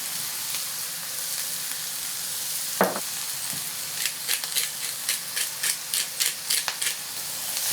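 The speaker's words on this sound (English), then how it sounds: "Now we're going to give this a good stir. We're going to let it cook another 3-4 minutes until everything is just soft." An apple, onion and ginger mixture sizzles softly in a pan, then a spoon stirs it in a quick run of rhythmic scraping clicks over the steady fry, close by with no talk.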